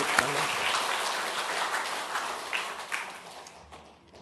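A church congregation claps during a worship service, a soft, fairly distant patter of applause that gradually fades out over a few seconds.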